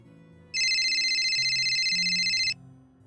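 A telephone ringtone sounds for about two seconds, a bright electronic trill repeating rapidly at steady volume, clear and close over a faint low background.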